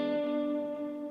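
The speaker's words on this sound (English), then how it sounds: "So an arpeggio that sounds like this." A guitar plays a dominant 7th arpeggio in a brief, sustained, buzzy tone that is moderately loud and rings evenly for about a second. No voice is heard.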